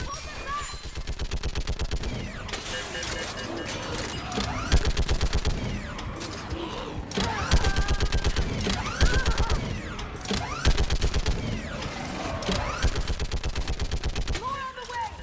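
Video game gunfire from a mounted gunner rattles in rapid sustained bursts, loud and dense with mechanical clatter, while characters shout commands over it.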